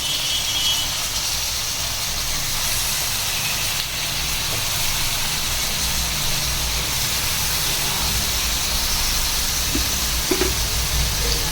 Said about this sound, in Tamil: வதங்கவும் நம்ம க்ளீன் பண்ணி வச்சுருக்க சிக்கன் இதோடு ஆட் பண்ணிக்கிறோம்.